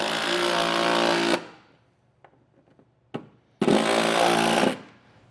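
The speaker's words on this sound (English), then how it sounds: "we'll take the other screws that are included in the kit and drive these down." Two loud bursts of a power driver running screws into an etrailer enclosed trailer transition plate, each whirring for over a second, separated by a quieter pause with light clicks and handling noise.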